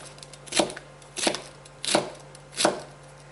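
A knife chops vegetables for Asian coleslaw on a cutting board in four loud, evenly spaced strokes close by, with no talking.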